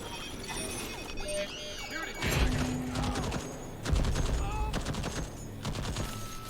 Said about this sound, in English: That wasn't me, that was the turret.